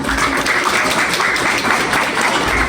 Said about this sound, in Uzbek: Qarsaklar bo'lsin.